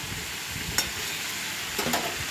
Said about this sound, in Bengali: পেঁপেটা ভাজতে দিয়ে দিচ্ছি